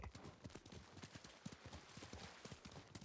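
Rapid rhythmic clip-clop of video game horse hooves trotting on hard ground, close and steady throughout, with no talking.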